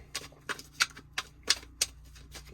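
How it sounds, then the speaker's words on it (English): Tarot cards shuffled by hand in a quick, crisp riffle, six or seven sharp flicking bursts arriving in an irregular rhythm at close range, with no talking. "I'm going to give this a quick shuffle"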